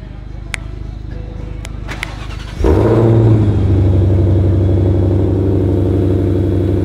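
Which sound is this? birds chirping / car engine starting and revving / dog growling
car engine starting and revving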